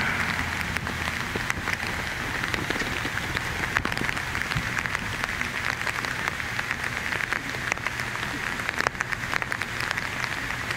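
Steady rain patters on a surface at a horse show, with a dense hiss and scattered louder drops, constant throughout with no speech.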